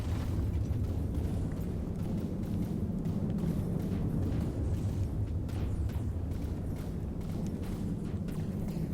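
Missile explosions in a robot battle video game, a steady, dense rumble of bursts and booms blending into a continuous low roar throughout.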